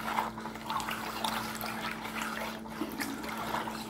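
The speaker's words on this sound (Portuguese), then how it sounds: "E agora eu vou mexer até dissolver." Baking soda being stirred into water until it dissolves, a soft continuous liquid swishing and trickling with faint clinks, steady and close, with a low background hum and no voices.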